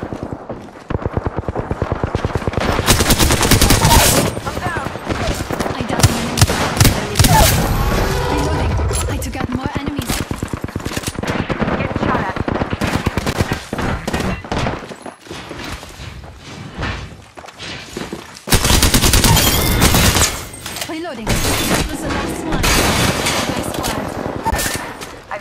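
Alternator submachine gun fire in a video game firefight: dense, rapid bursts of automatic shots repeating through the clip among other battle sounds and game voices.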